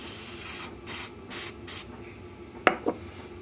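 A spray bottle squirting, several short hissing bursts in quick succession, close and fairly loud, followed by a couple of light clicks.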